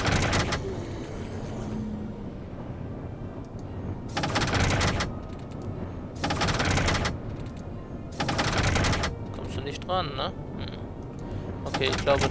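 Gunfire in the video game Tesla Effect, heard as three loud broadband bursts about two seconds apart, each lasting nearly a second, under a steady background of game ambience and faint electronic chirps.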